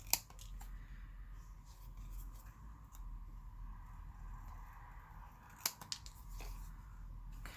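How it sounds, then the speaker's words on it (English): Scissors trim a small leftover paper scrap at a craft table, a few quiet, crisp snips spaced apart with a brief cluster of cuts later on, no talking. "So I'm just going to trim it up some because it's not even."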